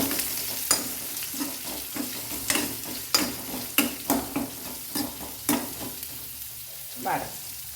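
Onion and curry leaves frying in a pan for a prawn dish, a rhythmic run of close spatula scrapes and clacks over a crackling sizzle, with no talking.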